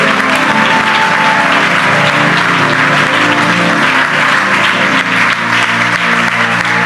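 A church congregation applauds loudly and steadily, a dense continuous roar of clapping that fills the room throughout.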